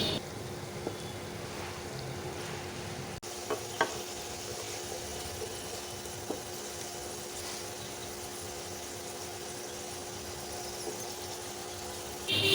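A steady, even sizzle of potatoes frying in hot oil for French fries continues throughout, with a few faint clinks and scrapes.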